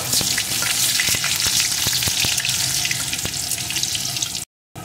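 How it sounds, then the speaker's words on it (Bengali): Potato pieces fry in hot oil with tempered spices in a pan for a vegetarian pumpkin and pui saag dish, giving a loud, steady, close sizzle with a few soft clinks before a short silence at the end. "এখন এর ভিতরে টুকরো করে কেটে রাখা আলুটা দিয়ে দেবো। আলুটাকে একটু ভেজে নেব।"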